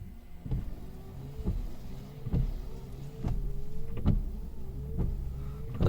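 Windshield wipers sweep across the glass of a G35 car fitted with new rubber refills, a motor whir with regular thumping strokes about once a second, close and loud.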